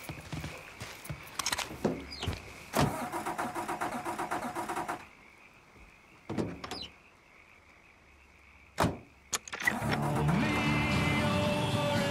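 A car engine turns over and starts in Mafia 3 Definitive Edition, cranking in bursts, then a quiet gap with a few sharp knocks before the engine catches and settles into a steady idle.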